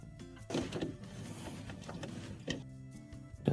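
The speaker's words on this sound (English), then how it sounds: "we are going to use a screwdriver to get inside, and we are going to remove these 1/4-inch screws that are holding on the condenser fan motor" A screwdriver removes 1/4-inch screws from a refrigerator condenser fan motor, giving a quiet, close mechanical whirring with sharp clicks and taps at irregular moments.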